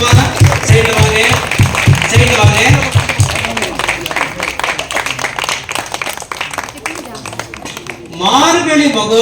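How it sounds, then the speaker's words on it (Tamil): Loud applause and rhythmic clapping from an audience at the Margazhi Mahotsavam festival in Salem, greeting the children on stage, with a person speaking over the clapping before it fades and then swells again at the end. "அவங்களுக்கு முதல்ல ஒரு பெரிய கைத்தட்டு."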